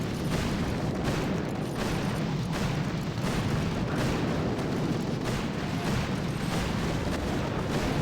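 Grenadier explosions blowing up targets in a video game set on a tropical island, a dense, loud and continuous barrage of overlapping booms and blasts with no pauses.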